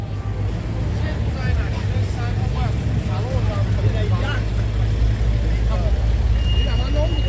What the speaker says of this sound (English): Hybrid clean energy buses here in New York City.